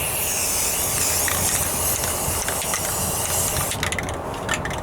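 Spray primer hisses steadily onto a Ford Ranger passenger rocker panel as a second coat goes on outdoors in the wind, a loud continuous spray that breaks into short bursts near the end.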